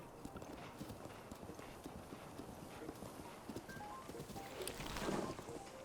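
Horse hooves clip-clop in a steady galloping rhythm across open ground in The Legend of Zelda: Breath of the Wild, with wind noise behind them and a brief whinny toward the end.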